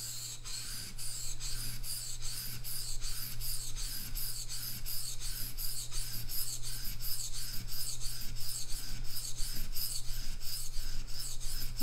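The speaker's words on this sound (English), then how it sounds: "in the end you have to set up the burr by using the steel rod." A knife blade is stroked against a steel rod to set up the burr, giving a steady, rapid series of close scraping rasps in an even rhythm for the whole stretch, with no talking.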